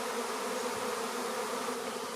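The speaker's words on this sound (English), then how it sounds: "The air is full of bees." A swarm of honey bees fills the air in May with a dense, steady buzzing drone that holds evenly and loud throughout, with no voices.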